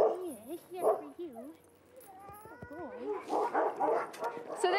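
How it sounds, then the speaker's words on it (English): An Alaskan Husky sled dog gives yips, whines and short bow-wow barks in quick bursts, fairly close, mixed with human voices talking around it. "So this is Hex. He's an Alaskan Husky."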